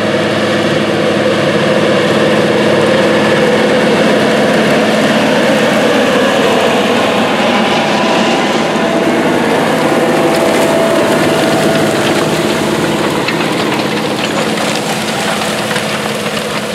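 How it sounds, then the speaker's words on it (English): A big Case IH tractor pulling a turbo till through a field, a loud continuous low engine drone with rumbling and rattling from the implement, steady throughout with no talk. "this turbo till is just airing out the soil so the planters can run later this afternoon"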